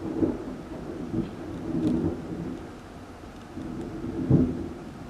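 Rumbling thunder with steady rain during a severe thunderstorm, low rolling booms swelling and fading several times over a constant wash of rainfall.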